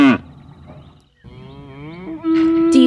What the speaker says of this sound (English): Cows make that sound.